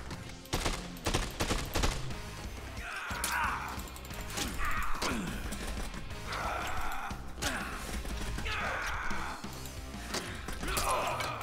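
An automatic rifle in Dead Rising 2 fires repeated short bursts at a steady pace, with game effects, faint breaths and mechanical clatter between the volleys.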